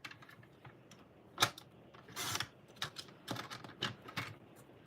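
Scissors trim an artist trading card, a series of crisp, close snips and small clicks at an uneven pace against a quiet background.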